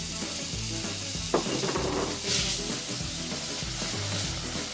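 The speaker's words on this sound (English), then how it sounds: "Here go the onions." Onions sizzling in a roux for crawfish etouffee, cooked in a pan aboard a sailboat; a loud, continuous frying hiss with a brief stirring scrape, close up and without talk.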